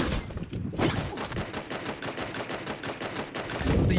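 Rapid gunfire rattles in the shooter game Free Fire, a fast, even string of loud shots running almost nonstop for about three seconds, with a heavier burst at the end.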